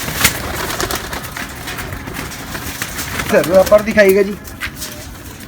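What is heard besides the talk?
golden pigeons cooing while held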